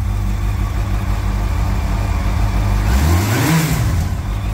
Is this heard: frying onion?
no